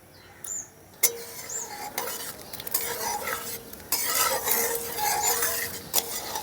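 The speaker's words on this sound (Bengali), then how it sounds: "এখন উপমাতে যে বাদামটা দেব সেই বাদামটা ভেজে নেব।" Peanuts fry in hot oil for upma, a soft steady sizzle under sharp clinks and scrapes of a spoon stirring in the pan, close up with no talking.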